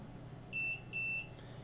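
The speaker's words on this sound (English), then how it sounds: "notice that it did 2 beeps. That means that it has received the code from the remote" A Sonoff RF Bridge gives two short, clear electronic beeps in steady succession after receiving a remote code, set against a low hum of room noise.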